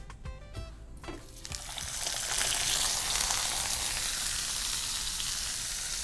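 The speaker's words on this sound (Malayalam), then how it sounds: "അപ്പോൾ എണ്ണ ചൂടായി. നമ്മളിപ്പം മീനിനെ ഇടാൻ പോവാണ്," Pearl spot fish (karimeen) drops into hot oil and sets off a loud, dense sizzle that swells after a quieter start and then holds steady, close by, with no voices.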